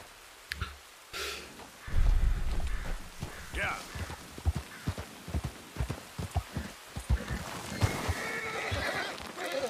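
A horse in a video game whinnies loudly, then snorts and breathes while its hooves clip-clop in a quick uneven rhythm, with a second fainter neigh near the end.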